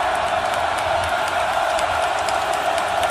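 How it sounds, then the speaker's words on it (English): A loud, steady roar from a packed college football stadium crowd at Beaver Stadium during a Penn State playoff game, a dense wash of noise with faint whoops, continuous throughout. "Crowd loud, influential."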